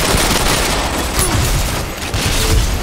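Dense, continuous gunfire in the shooter game Ghost Recon Phantoms, rapid overlapping shots and bursts filling the whole stretch at a steady loud level with no pauses.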